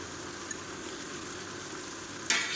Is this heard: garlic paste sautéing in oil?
yes